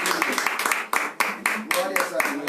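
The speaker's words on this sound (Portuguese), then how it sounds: "Vamos dar um forte aplauso ao Senhor." A church congregation claps in quick rhythmic bursts, loud and close, while voices carry on over the applause.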